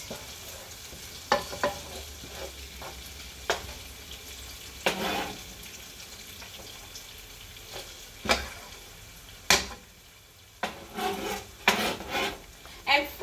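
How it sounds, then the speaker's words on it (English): Homemade tomato pasta sauce simmers in a pan on the stove, a faint steady bubbling broken by occasional scraping stirs and utensil knocks, with no talk. "I'm going to turn her down to a level 3 to just simmer a bit."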